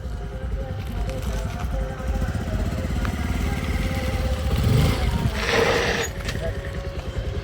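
A motorcycle engine runs steadily nearby with a constant low throbbing drone. A brief louder swell comes partway through, and people talk faintly over it.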